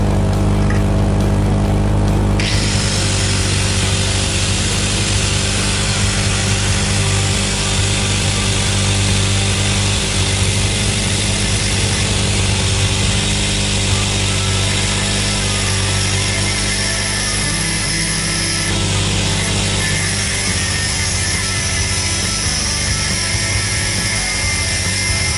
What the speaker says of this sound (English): we'll have to chop roughly 20mm off the transfer case spline